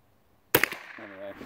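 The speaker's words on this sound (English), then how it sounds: "Let's shoot the little 2-inch air gun target at 25 yards." A single sharp crack from a CZ ZKM 468 rifle at an outdoor range, close and loud against near silence, with a brief echo tail followed by a voice speaking just afterward.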